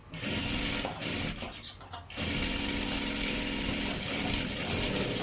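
An electric sewing machine runs a double line of stitching on salwar fabric, its loud buzzing whir broken by a short pause near the start before it resumes steadily to the end.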